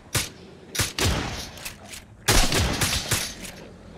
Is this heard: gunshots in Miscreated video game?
yes